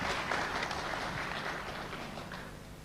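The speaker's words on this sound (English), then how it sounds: "Everybody clap." An audience claps steadily at an award presentation, with a dense, even wash of many hands that stays at a constant level for about three seconds.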